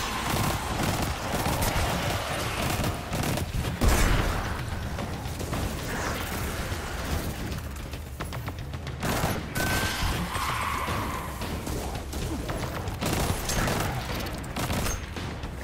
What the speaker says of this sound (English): I've been shooting that hunter.